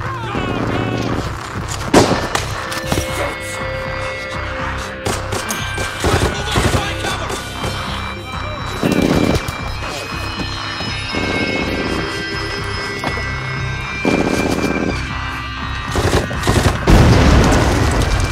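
Gunfire and booming explosions in the Hell Let Loose war game crash out steadily during a village battle, with rapid shots and heavy blasts layered under shouted voices.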